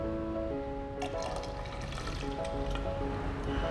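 Water poured from a 100 ml measuring cylinder into a 1000 ml container gives a close, steady trickling splash that starts abruptly and keeps going under a faint background tone; nobody speaks.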